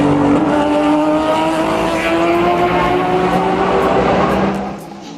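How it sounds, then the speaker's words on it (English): A Porsche GTLM race car roars past on the Laguna Seca circuit, heard from beside the fence: a loud, sustained engine note that sweeps downward in pitch as the car goes by, then fades in the final moment. "grab a spot by the fence and listen to this Porsche GTLM car."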